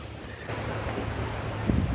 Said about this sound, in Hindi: इठलाती हुई लहरें